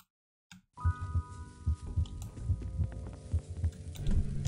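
A heartbeat thumps in a steady, even rhythm of low pulses, moderately loud, under a continuous hum and other faint game sounds after a moment of silence at the start.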